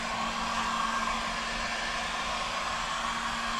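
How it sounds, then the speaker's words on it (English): Heat gun blowing hot air over a resin sample during a polyester and epoxy resin ignition test, a steady loud roaring whoosh with a constant whine, continuous and close for the whole stretch, no talking. "if you're using a heat gun, obviously you would want it kind of away from your volatile chemicals"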